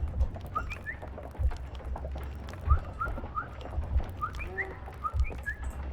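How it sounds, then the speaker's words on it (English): Strange chirping bird calls in the Sherlock Holmes: Crimes & Punishments video game, short rising whistled notes repeating over a low ambient rumble with soft thuds. "Weird bird noises."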